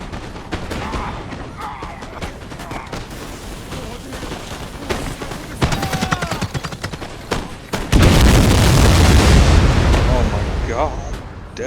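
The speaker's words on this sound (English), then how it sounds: "Alright, they're gonna throw grenades." Napoleon Total War battle: scattered musket volleys crackle and pop in irregular bursts, then grenade explosions hit with a loud, sustained booming roar that lingers for several seconds.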